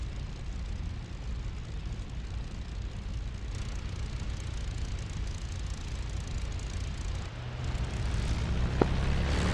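A Spitfire's engine in the DCS flight simulator, a steady, full propeller-engine roar that holds throughout and swells slightly near the end, with no talk.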